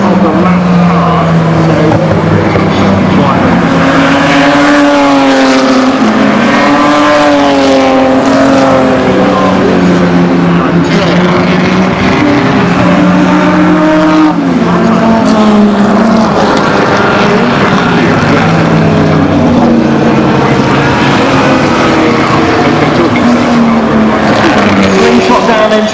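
Historic race cars competing in the Goodwood Revival Kinrara Trophy, loud engines rising and falling through gear changes as cars brake into a chicane and accelerate away, with commentary talk running underneath.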